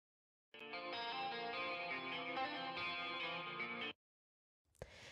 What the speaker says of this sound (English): I also have the guitar amp on one of them on the cream setting.